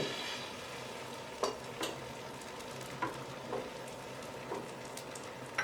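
Beaten egg for a thin, multi-layered omelette sizzling softly in a pan as it is spread out, a steady quiet frying hiss broken by a few light scraping taps.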